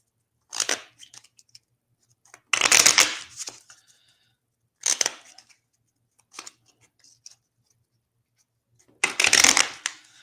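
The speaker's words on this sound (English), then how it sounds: "And I'm even going to shuffle them." An ordinary deck of playing cards is shuffled in several separate riffling bursts, crisp and close, with quiet gaps between them and no talking.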